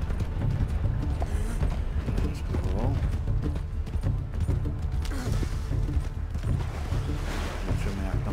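Horse hooves clip-clopping in Red Dead Redemption II, a continuous steady rhythm of hoofbeats with creaking tack, heard under someone talking.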